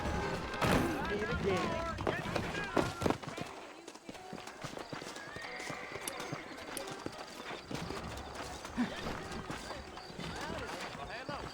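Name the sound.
horse hooves clip-clopping, from a video game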